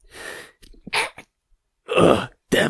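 Sneezes burst out in separate loud, broad blasts, with a brief wheezy intake before the final two, close up and with no talk.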